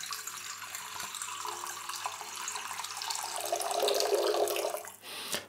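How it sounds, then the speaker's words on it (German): Tap water runs into a bowl as the first step of a bread dough, a soft continuous splashing stream that grows fuller and louder before stopping abruptly near the end, with no talking. "Das Wasser kommt zuerst rein"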